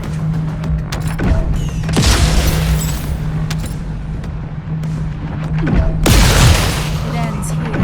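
Electron weapon fire in The First Descendant, with two loud, broad booming bursts around two and six seconds over a steady low hum and a dense game soundscape.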